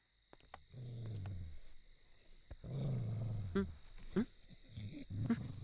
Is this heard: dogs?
yes